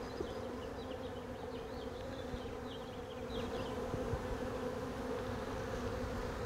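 Dense, steady buzzing of many bees in a hive, a constant low hum with faint higher whines drifting over it, no voices.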